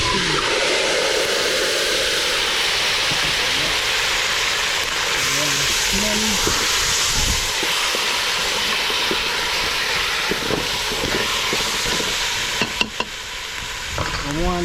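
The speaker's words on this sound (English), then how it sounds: "I throw in the meat in. Make it fry up a little, then I cover it and make it pressure. Oil hot" Meat sizzles and crackles in hot oil in an iron pot over an outdoor cooking fire, a loud, steady hiss lasting throughout, with a voice speaking briefly over it.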